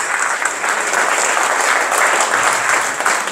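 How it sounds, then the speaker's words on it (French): An audience claps steadily for a few seconds, a dense and fairly loud round of applause with no voices on top. "je crois qu'on peut t'applaudir d'être là"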